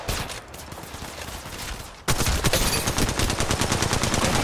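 Rapid automatic gunfire in the Apex Legends Mobile shooter game, a burst of bullets that pauses briefly then erupts again in a loud, dense stream of rattling shots with no talk.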